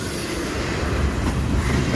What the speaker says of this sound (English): They got the last train of the day. It's a pretty good one, too. Pretty good, long one.